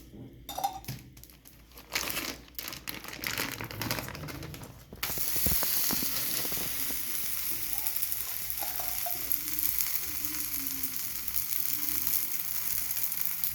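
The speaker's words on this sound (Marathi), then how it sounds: "तव्यावर टाकणार आहे." Fasting-flour thalipeeth cooks on a nonstick tawa with drops of ghee. Scattered clatter and taps lead into a continuous close sizzle that stays steady and even for the remaining eight seconds.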